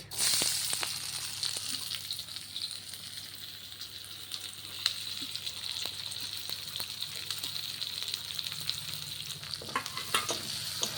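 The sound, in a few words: chopped onion frying in hot oil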